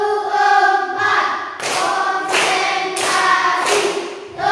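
Classroom of students clap a set rhythm on cue, with several sharp, loud bursts of hand claps in a steady pattern, separated by brief gaps, over a low background tone.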